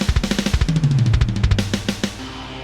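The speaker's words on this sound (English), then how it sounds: "So the drum fill sounds like this." A drum fill intro runs in rapid, even 16th-note hits, each strike sharp and close, building briefly before a lighter tail.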